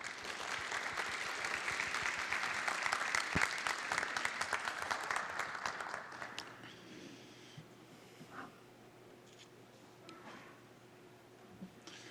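An audience at a Pusan National University 2023 entrance ceremony claps in loud, dense applause for about six seconds to welcome the university president, then it drops away to quiet room tone with a few faint noises.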